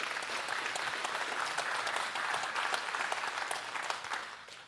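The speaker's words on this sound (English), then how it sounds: "So just round of applause for my team at the Chamber and the Hub." An audience at a startup demo day gives a sustained round of applause, dense and even throughout, tapering off slightly at the end.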